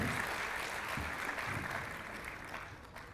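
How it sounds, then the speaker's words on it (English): A university audience applauds a visiting guest, a sustained even clapping that slowly fades toward the end, with no talk over it. "I think we need a big round of applause for our guest today"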